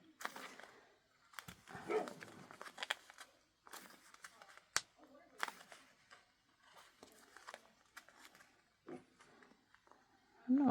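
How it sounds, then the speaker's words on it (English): A dog barking outside in scattered, fairly distant bursts with some whimpering, quiet overall, while a person talks indoors in between. "I don't know what the dog's barking at."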